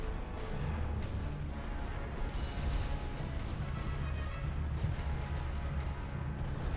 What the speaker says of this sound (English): Apparently, I was a little bit late with the light artillery.